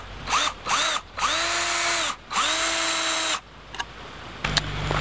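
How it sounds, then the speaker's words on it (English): Close power drill driving outdoor screws into a wooden mailbox board, three or four rising whines that spin up and cut off, followed by a few faint clicks and knocks. "I'm gonna get this screwed in here."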